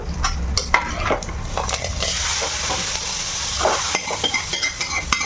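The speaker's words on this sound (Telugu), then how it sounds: "ఇప్పుడు తాలింపు వేసేసుకుందాం మనం" Hot tempering crackles and sizzles as it is poured into fenugreek stem dal in a home kitchen, a steady broadband hiss with scattered clinks of a spoon and pan, fairly close and with no talking.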